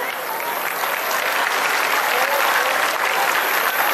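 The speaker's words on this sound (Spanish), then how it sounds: "Demuéstrame que no te gustó mi show con un aplauso." Steady applause from a festival audience at a town patronal fiesta show, a dense, continuous clapping wash filling the whole stretch at fairly close range.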